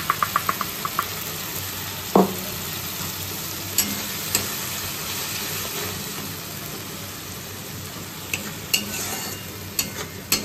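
Ginger, cumin, chilli and tomato paste frying with onion paste for a fish dish, a steady close sizzle with occasional scraping stirs and clinks.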